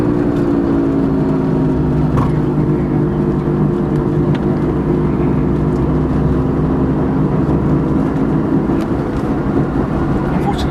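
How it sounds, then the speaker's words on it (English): Steady traffic rumble from cars driving along nearby roads in Sweden, a continuous dense roar without breaks as someone talks over it. "Cars tend to drive far too quickly around these roads."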